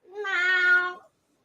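A voice imitates a cat, giving one drawn-out nasal meow about a second long, close and clear, followed by silence.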